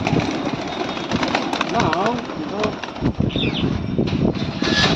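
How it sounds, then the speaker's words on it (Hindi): Pigeons flap their wings as they are released to fly during a Lucknow pigeon-flying session, with bursts of wing beats and fluttering amid busy outdoor noise and a few bird calls. "कबूतर को चक्की दी जा रही है, अभी उड़ाया जाएगा कबूतरों को।"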